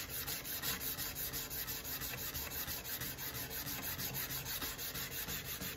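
A belt grinder with a 120 grit belt sands the bevel of a Damascus steel knife in a continuous abrasive rasp, pulsing gently with repeated passes, close and steady throughout.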